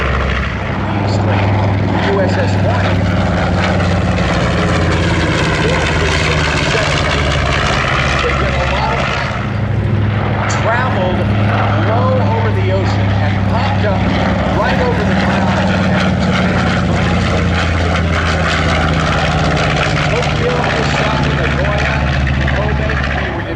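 Several B-25 Mitchell bombers roar past in a flight demonstration with a loud, sustained, rumbling piston-engine drone that swells and fades throughout, while someone talks continuously over it.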